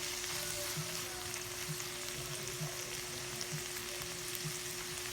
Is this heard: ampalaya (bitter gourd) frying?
yes